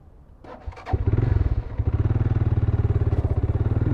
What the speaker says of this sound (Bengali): বাইকটা একটু চালাচ্ছি দেখি বাইকটার ফিল কীরকম